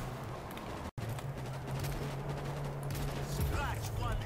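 Dense sniper gunfire in the zombie shooter World War Z multiplayer, repeated shots layered over a constant hum and crowd-like game noise, with a voice briefly audible.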